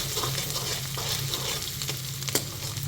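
Chopped ginger, green chili and garlic fry in oil in a pan, giving a steady close sizzle with light stirring scrapes and a faint sharp click near the end.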